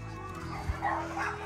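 A nice owner-surrendered rescue dog, given up because of fleas and now at a south Texas shelter, lets out a single short bark over a steady low background hum, close and moderately loud.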